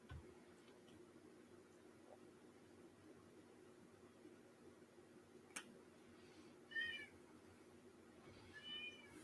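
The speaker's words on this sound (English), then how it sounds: "Cat." A cat meows twice in a quiet indoor room during a miniature painting session, each call short and clear over a low steady hum, with a faint tick partway through.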